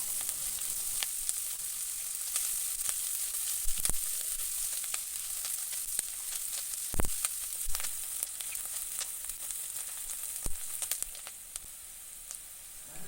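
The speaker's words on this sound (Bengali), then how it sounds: "পেঁয়াজগুলি আমি এখন একটু নাড়াচাড়া করে নেব" Chopped onions fry in a pan for an egg bhuna, a steady close sizzle with intermittent scraping clicks as they are stirred, loud and continuous with no talking.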